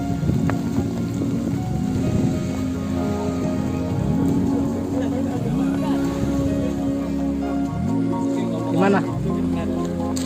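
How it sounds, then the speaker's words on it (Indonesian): Heavy rain pours steadily at a mini bike park, a dense constant hiss under recurring low engine-like swells, with people talking nearby. "Masih hujan."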